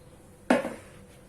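A metal pot set down on a kitchen stove, a single clear clank that rings briefly and fades, alone in a quiet room.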